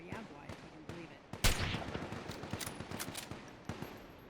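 Gunfire in Fallout 4 with the Life In The Ruins mod, a burst of broadband shots landing around the middle of the clip, then scattered quicker pops at moderate level amid ambient game noise.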